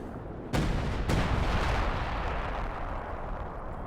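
A B4 howitzer in Company of Heroes 2 fires two booming shots about half a second apart, loud and close, followed by a long rolling rumble that fades slowly.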